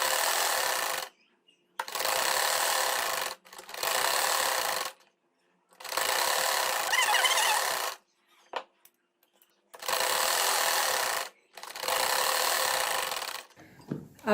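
A sewing machine stitches cloth for a poncha trouser cuff in repeated bursts of about one to two seconds each, separated by short silent pauses, close and steady with no talking.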